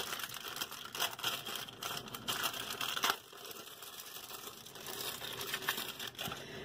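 Plastic frozen food packaging crinkles and tears open nearby, a steady run of crackling with a sharper rip around the middle, no talking.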